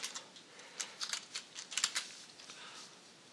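Typing on a computer keyboard while searching software: a quick, irregular run of light key clicks, moderately close and alone, with no speech.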